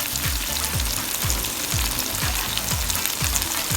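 Chicken frying in a pan with diced fresh tomatoes: a loud, dense, continuous sizzle close by, with regular low knocks every half second or so from stirring.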